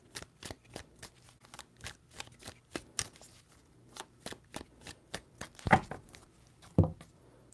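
Tarot cards are shuffled in a quick run of crisp riffling taps, close and fairly quiet, with a couple of sharper snaps near the end.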